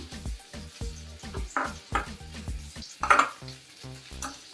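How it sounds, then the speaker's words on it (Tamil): A spoon scrapes and knocks against a pan in an even rhythm, around a dozen distinct strokes, as roasted cashews and raisins are stirred into rava kesari, with a soft sizzle underneath. "இப்போ பாருங்கள், வறுத்து வச்ச முந்திரி திராட்சையும் நம்ம ஆட் பண்ணிக்கலாம்"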